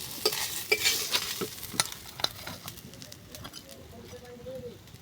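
Small fish frying in a pan in a home kitchen, a faint sizzle under a string of sharp spatula scrapes and taps, busy at first and then easing into a quieter hiss.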